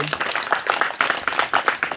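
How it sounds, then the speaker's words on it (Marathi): Schoolchildren clap for a classmate in a classroom, a quick run of close, slightly uneven handclaps that carries on for about two seconds with voices mixed in. "टाळ्या वाजवा वैष्णवीसाठी"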